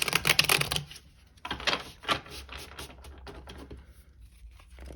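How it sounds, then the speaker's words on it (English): A deck of tarot cards being shuffled up close, with a dense burst of rapid riffling flicks at first, then scattered softer card slides and taps, and no talking. "let me get these cards. While I shuffle"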